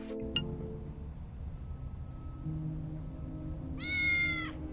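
A cat meows in the Tales of the Neonsea video game, a single clear, rising meow near the end over a low ambient hum and faint background tones.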